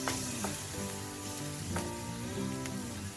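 Stir fry cooking over high heat, a dense, loud, steady sizzle with a few brief crackling bursts and a faint tonal hum beneath.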